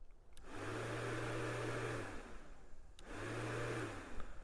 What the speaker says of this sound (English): And if I want to turn that bad boy on, listen.